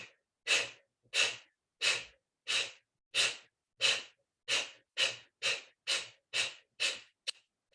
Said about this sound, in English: Kapalbhati breathing, Bikram style, exhale through your mouth.